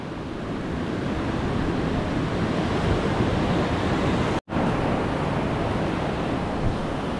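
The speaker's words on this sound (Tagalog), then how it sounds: "Tapos ganyan pa ang mga alon." Strong surf and powerful waves churning off a beach with a dangerous current, a dense continuous roar that stays loud and steady throughout, broken by one brief dropout near the middle.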